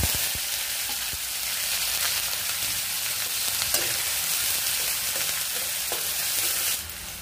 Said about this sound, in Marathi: आता आपण त्यामध्ये थोडेसे जिरे घालतोय, थोडीशी राई, थोडी कढीपत्त्याची पानं व एक कांदा घालतोय.